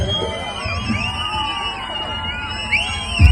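An audience cheers and shouts for young children after their first dance performance on stage, a loud, lively crowd with whoops and hubbub close by and voices calling out over it.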